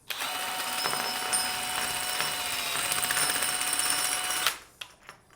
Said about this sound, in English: then you can take a 3/4 inch drive mechanism or a wrench and push all of your baffles out